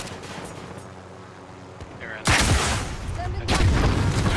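An RPG round and bursts of gunfire in Call of Duty Warzone: quiet background ambience, then a sudden loud blast followed by rattling shots and a second burst of fire near the end.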